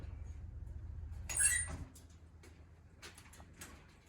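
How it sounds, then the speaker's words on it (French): The three doors of a Viel sawmill are opened, a sharp squeak and scrape of metal followed by softer clunks and rattles against a low machine hum that stops partway through. "On ouvre les trois portes."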